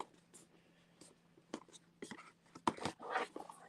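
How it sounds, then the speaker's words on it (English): A paper fold-out card from a Mattel Creations Jurassic World Hammond Collection set being unfolded by hand: soft crinkles and sharper paper snaps in short bursts, growing louder and denser toward the end, close and with no talk. "this is not pre-folded, so you got to fold this out"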